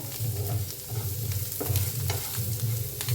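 Onion filling with turmeric being stirred in a pan for Mysore dosa: a steady, close sizzle with a repeated scraping rhythm of the spoon through the mix, and no talking.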